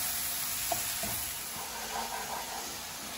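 Tomato masala for mutton liver fries in a pan with a soft, even sizzle and a few faint stirring scrapes. The sound is quiet and no one talks.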